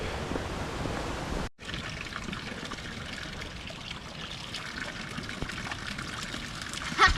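Mountain fountain water runs in a steady trickling, splashing stream, close and continuous, with a brief gap near the start and no talk.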